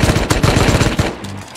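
Automatic gunfire in the video game Rust fires a rapid, loud, close burst of shots that cuts off abruptly near the end, with no talking.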